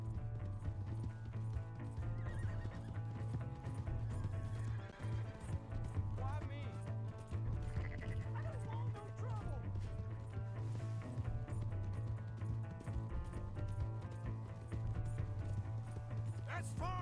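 Horse hooves galloping in Red Dead Redemption 2, a steady running clip-clop that carries through the whole stretch beneath a low constant hum, with occasional voices talking over it.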